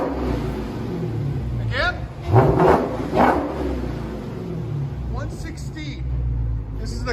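An 840hp Dodge Demon on its stock exhaust rumbles at idle, then gives a couple of short, louder revs midway before settling back, heard close with a person speaking briefly over it.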